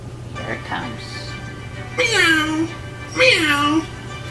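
Two drawn-out, falling imitated meows in close succession, each about half a second long, with faint speech just before them.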